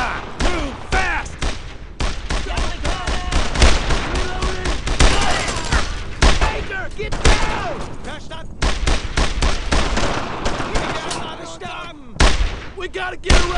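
Dense, relentless WWII-era gunfire crackles nonstop from rifles and machine guns in the 2005 video game Brothers in Arms: Road to Hill 30, loud and close with overlapping bursts throughout.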